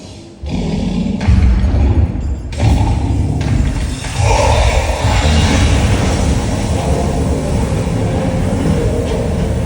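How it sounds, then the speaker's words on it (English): A Gringotts Bank destruction effect at a Harry Potter theme park in Diagon Alley gives heavy rumbling roars punctuated by several deep thuds, loud and close, with no talking. "This scene is when Gringotts Bank was destroyed."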